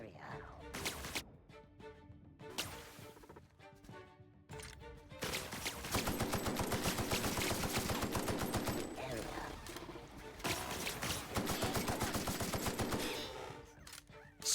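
A space AK rifle in The Outer Worlds fires in loud, rapid automatic bursts after a few sparse single shots and game sounds. The sustained rattling fire runs through the second half.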